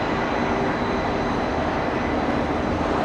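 Steady broadband roar of a cargo airplane at Los Angeles airport, loud and constant throughout with no talk.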